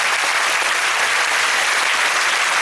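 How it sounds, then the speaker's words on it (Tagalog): A congregation applauds in a church during a sermon on the resurrection, steady dense clapping, loud and continuous without any talk. "Parang mahina pong palakpak niya"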